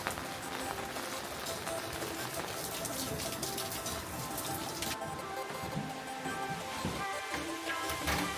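Steady rain falls in Mestia, Georgia, a dense, continuous hiss of drops on surfaces close around while someone walks, with no voices and a slight dulling of the brighter spray partway through.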